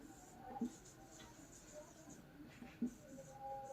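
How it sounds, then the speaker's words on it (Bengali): Chalk or marker scratching notes onto a board during a history lesson, quiet short strokes in small bursts under a teacher's voice. "আমি লিখে দিচ্ছি এগুলো।"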